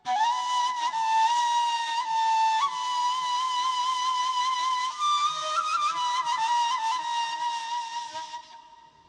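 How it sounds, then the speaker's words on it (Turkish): A breathy ney reed flute plays long, sustained mournful notes with slight pitch slides, solo and clear, fading out at the end, in Mevlevi ceremonial music. "İşte neyin o yanık sesi asıl vatanına duyduğu hasretten ortaya çıkar."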